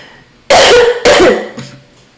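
Two loud, harsh coughs in quick succession close to the microphone, followed by a softer throat-clearing sound, with no talking.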